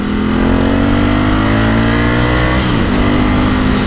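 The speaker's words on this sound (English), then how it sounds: "I love that engine sound" A Ducati Scrambler 1100 Sport with a dual exhaust revs hard, its engine note climbing steadily in pitch, dropping briefly and then rising again, loud and close throughout.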